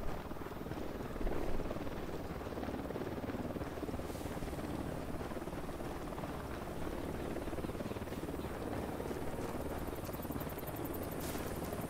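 A helicopter in the Ghost Recon Wildlands video game drones steadily for the whole stretch, a constant rotor roar that holds at the same level from start to end, with no talk over it.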